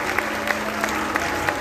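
An audience in Pénjamo, Guanajuato applauding the state's mayors at a public event, continuous loud clapping from a large crowd with a few sharper accents, while a voice is faintly heard underneath.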